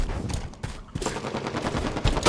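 A minigun fires in the Halo 5 PC multiplayer game on the Sandtrap map, giving dense, rapid bursts of gunfire that rattle continuously and loudly for a couple of seconds.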